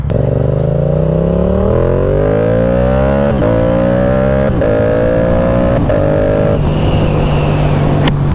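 A Yamaha R7 sport motorcycle engine roars loudly and steadily while riding, its pitch climbing through repeated rises with brief dips at gear shifts, constant and close with wind noise underneath and no talking.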